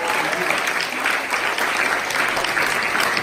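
A large audience at a DJ masterclass at ADE in Amsterdam, 2018, gives loud, steady applause, a dense wash of clapping that holds evenly for about three seconds.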